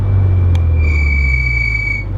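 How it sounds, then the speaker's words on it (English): High, thin brake squeal sustained for over a second over a low road rumble, with a short click before it. "On our way home from the shop, and the brakes started making noises."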